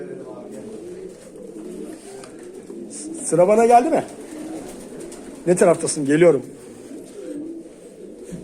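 Pigeons coo in two soft rolling bursts, close by, while a person speaks quietly in between.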